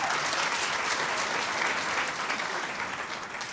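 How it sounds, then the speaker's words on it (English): A large audience at a national ceremony launching upgraded banknotes and new coins applauds steadily, a dense, loud wash of clapping that holds for several seconds without a break. "Third. A round of applause."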